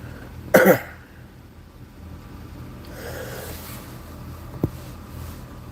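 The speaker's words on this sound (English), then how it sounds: "I had an intense cough." A single sharp cough bursts out close by, followed by a quiet stretch with a faint low rumble and a small click.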